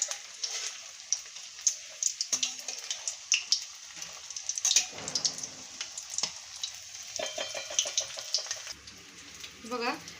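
Chicken kebabs shallow-fry over a low flame with a soft, close crackle of irregular spattering pops and sizzles, broken by occasional light clinks and stirring.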